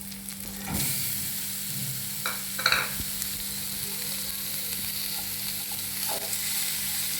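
Vegetables and ground soybean sautéed with red chilli and garam masala for healthy momo filling: a continuous soft sizzle with intermittent scraping stirs of a spoon against the pan, close and steady.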